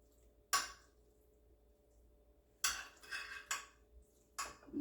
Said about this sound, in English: So we just flatten that out nicely on the pan here